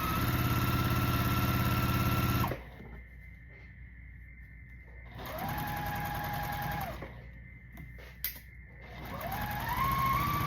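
A sewing machine stitches pinned quilt block pieces in short runs, a steady hum starting and stopping three times with quiet gaps between, close and fairly soft.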